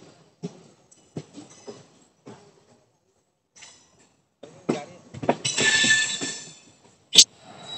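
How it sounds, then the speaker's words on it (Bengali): A diesel DEMU local train creeps slowly toward Siliguri, giving scattered clanks and wheel knocks, then a brief rising squeal and a sharp squeak near the end, with quiet gaps between. "ডেমো লোকাল একদম ধীরে ধীরে এগিয়ে যাচ্ছে শিলিগুড়ির পথে।"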